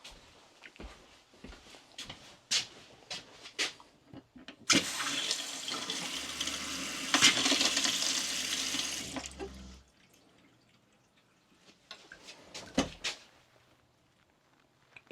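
Water runs from a camper sink faucet in a steady rush for about five seconds, bracketed by sharp clicks and knocks of cabinet doors and handling before and after.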